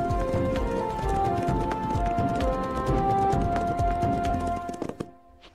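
Horses trot in a cartoon with brisk, regular hoofbeats over a soft musical bed, ending with a brief whinny before the sound fades out.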